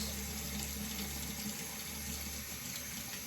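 A tap runs steadily into a sink to rinse a shaving razor, a constant close gush of water with no speech over it.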